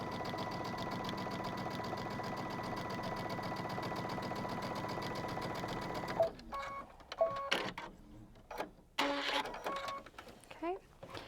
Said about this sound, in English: So we'll go ahead and sew that down.